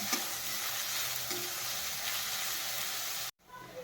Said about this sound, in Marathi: छान असं तेलात फ्राय करून घ्यायचंय ब्राऊन होईपर्यंत।